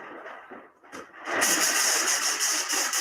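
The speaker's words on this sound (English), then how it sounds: "one of the effects department people coming in to spray at what we'd call atmosphere" Close by on a church film set, a spray can releases atmosphere haze. After a brief quieter lead-in, a loud steady hiss starts and continues to the end.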